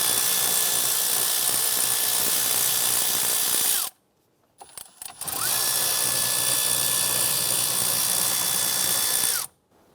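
A power tool whirs steadily while loosening 8mm nuts on the ignition lock cylinder of a Chrysler 300, running loud and close in two long bursts separated by a brief pause with faint clicks.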